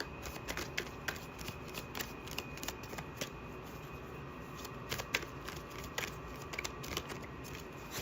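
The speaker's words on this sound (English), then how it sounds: "focus on the cards being shuffled and your breathing" Tarot cards shuffled continuously by hand, a steady run of close, crisp riffling and flicking with soft slaps, alone and fairly quiet throughout.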